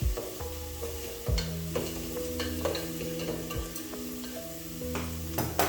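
Whole spices toast and sizzle gently in a pan for chicken pilau, with a spoon stirring and scraping at intervals against the metal, quiet and close.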